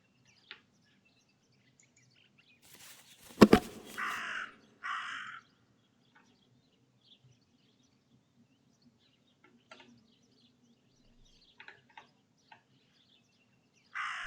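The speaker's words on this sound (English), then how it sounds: "That raven is making a big fuss." A raven caws in the video game Martha Is Dead, a few loud harsh calls in a burst, then faint scattered clicks across an otherwise quiet outdoor scene.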